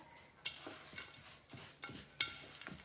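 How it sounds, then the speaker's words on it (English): Sticky trail mix energy bite ingredients are being stirred in a bowl, giving soft scraping and a few light clinks from the utensil at an irregular pace, close and fairly quiet. "So next we're just gonna mix this all up."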